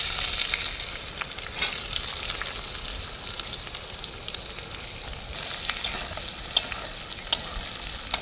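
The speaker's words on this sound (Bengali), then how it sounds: "পেঁয়াজটা একটু ভেজে নেব।" Sliced onions frying in oil with whole garam masala, cinnamon, cloves, cardamom, bay leaves and dried chillies, a soft steady sizzle close by with a few faint ticks and clicks.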